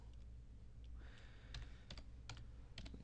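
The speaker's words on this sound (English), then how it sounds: "typing with one hand here" Quick keystrokes on a computer keyboard typed with one hand, coming in short clustered bursts of clicks over a steady low background hum, close and moderately loud.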